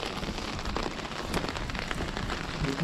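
Rain falling on a narrow street in Bremen, a close steady patter and hiss of drops on hard surfaces, continuous and fairly loud with no voices.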